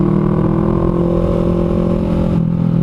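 A Honda CMX500 Rebel motorcycle pulls away under throttle, its engine droning loudly and close with a smooth, linear rise in tone, then easing off briefly near the end.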